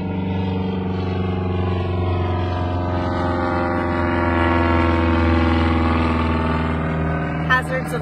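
A small airplane passing overhead near a small airport, a steady loud engine drone that swells slightly toward the middle and stays continuous throughout.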